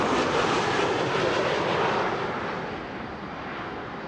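LOT Boeing 737 MAX 8 arriving at Amsterdam Schiphol Airport from Warsaw, a loud broadband jet engine roar that slowly fades as the plane passes, no talk.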